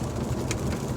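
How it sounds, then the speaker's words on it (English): Heavy rain pours in a continuous, dense hiss for about a second, fairly close and steady, with no voices. "Out of nowhere, it's raining super hard."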